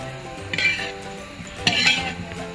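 Chicken curry being stirred in a pot, with a utensil scraping and clinking against the metal in a couple of louder bursts over a low background hum, close and fairly quiet.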